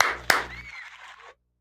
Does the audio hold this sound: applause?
yes